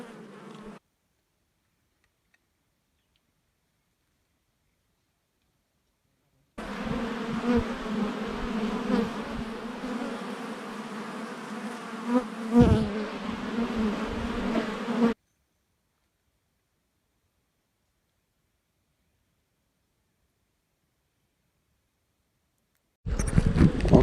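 Honeybees hum and buzz close by while a beehive on a Portuguese farm is opened for inspection. A dense, steady drone fills a long middle stretch, set between near-silent gaps and a short burst at each end.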